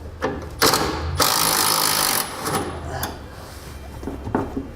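A 13mm bolt is backed off a parking brake cable bracket on a 2016 GMC Sierra, with short bursts of ratchet or tool whirring and metallic clatter, close and fairly loud, without voices.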